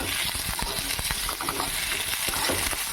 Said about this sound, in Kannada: ಆ ಟೊಮೊಟೊ ಎಲ್ಲ ಹಾಕಿ ಹುರ್ಕೊಳ್ಳೋಣ ಚೆನ್ನಾಗಿ